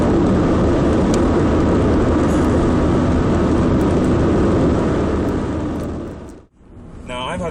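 Steady, loud road and engine roar from inside a Mazda 626 2.0 car driving through bends, continuous for several seconds before briefly dropping away near the end.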